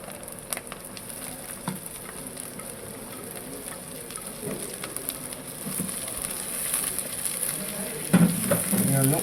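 Half a kilo of chopped shallots frying in a pan, a close, steady sizzle with scattered crackles and occasional stirring clatter, growing busier toward the end, with brief voices in the background.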